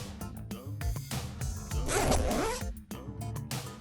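Zipper being pulled on a cloud-shaped bag made of craft foam paper, a close raspy zip of a second or so, set among light music and handling noise.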